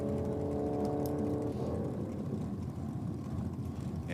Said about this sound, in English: Letting the car run through the transmission. You can hear it quite clearly on the track mics.